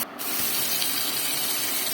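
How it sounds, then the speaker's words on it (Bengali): Potatoes fry in a hot pan, a dense, steady sizzle that crackles and hisses continuously at close range after a brief quiet start, with no talking. "আলু একটু কষা কষা করে ভেজে দিলাম"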